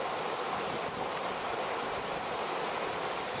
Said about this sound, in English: after some very heavy rainfall, this spill weir is in full flow.